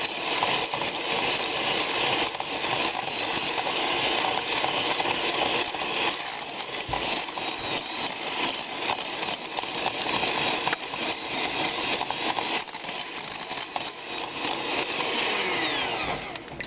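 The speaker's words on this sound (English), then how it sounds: "we're going to cream the butter. I'm using a hand mixer." An electric hand mixer creams butter for red velvet cupcakes, giving a continuous, fairly loud motor whir with slight fluctuations throughout and no talking.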